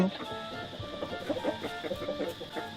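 Chickens clucking, several close, choppy calls repeating over a steady background hum, with people talking at times alongside.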